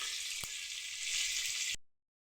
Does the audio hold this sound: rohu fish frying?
yes